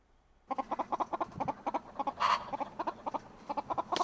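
A chicken on a mountain farm at night clucks in a steady series of short, rhythmic clucks, close and fairly clear, with one brief louder squawk midway.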